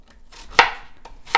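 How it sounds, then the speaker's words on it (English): Knife chopping apples into cubes on a cutting board, three crisp separate chops at an uneven pace, close and clear with no talking. "So I've diced the apples, about 6 cups here in this bowl, into a nice cube-sized dice"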